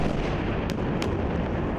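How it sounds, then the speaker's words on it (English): Israeli missile strikes land in Gaza as dense, continuous rumbling booms, with two sharper distant blasts cutting through the steady low roar. "A relentless stream of booms and whooshes as Israeli missiles land and militant rockets are launched"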